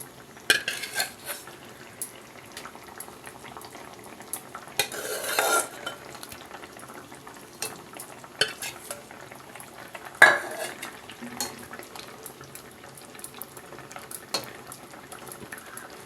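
Small fish are dropped into a simmering tamarind broth, marked by scattered utensil scrapes and clinks against the pot and short bursts of bubbling and stirring over a quiet background.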